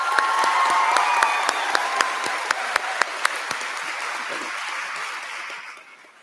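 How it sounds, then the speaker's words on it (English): A crowd applauds honoured students at a 2025 high school graduation ceremony. Steady clapping mixes with a few sharp individual claps and some cheering and whoops, holds for several seconds, then fades away. "Give them a round of applause."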